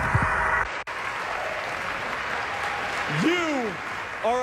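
Applause from an awards-show audience continues as a steady wash, broken by a sharp cut and overlaid with brief tonal swoops and bright chirping effects toward the end.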